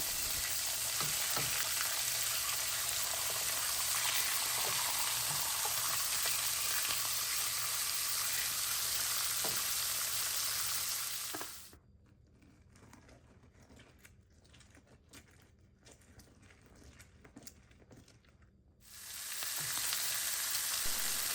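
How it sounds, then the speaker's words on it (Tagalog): Pork hock (pata) sears in a hot pan with a loud, continuous sizzle. The sound drops away for several seconds in the middle, then the frying returns at full strength, with no talking. "Habang sinisir natin ang karne"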